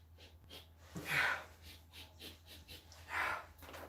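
Two sharp, breathy sniffs about two seconds apart, close to the microphone, as someone smells a small bowl of beans.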